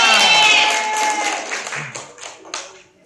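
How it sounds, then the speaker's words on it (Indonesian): Students in a classroom applaud together, a burst of clapping that starts under a voice and then thins out into a few scattered, fading claps. "Tepuk tangan untuk kalian semua."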